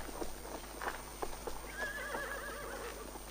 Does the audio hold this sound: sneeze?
no